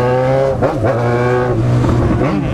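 Honda Fan 150 motorcycle engine revving hard inside a bus terminal, a loud continuous harmonic drone rising and falling with throttle blips, close and steady throughout with no talk.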